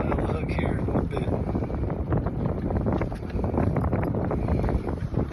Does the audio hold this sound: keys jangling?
no